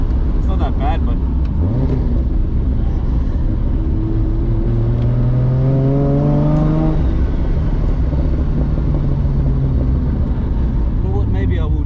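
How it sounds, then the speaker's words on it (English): MK3 Toyota Supra with a 60mm turbo 2JZ engine and swapped six-speed gearbox, a steady low engine drone and whirring rising in pitch as the car pulls, heard from inside the cabin under someone talking. "I can feel every sort of vibration and whirring of the gearbox."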